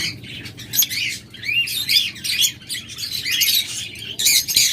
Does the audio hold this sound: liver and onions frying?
no